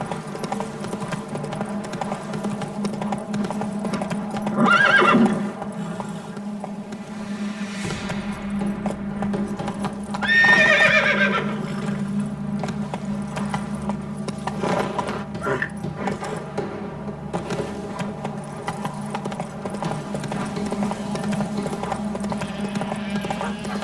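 Geralt's horse Roach gallops in The Witcher 3, a steady rhythmic clip-clop of hooves running throughout, with a couple of louder swells and game ambience underneath.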